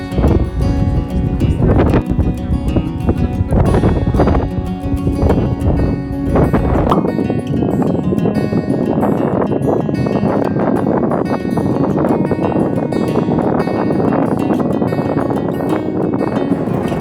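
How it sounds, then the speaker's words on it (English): Strong wind buffets the microphone at geothermal pools in Iceland, a loud continuous roar with gusty bursts and rumbling low thumps, no voices. "I know it's so windy, sorry"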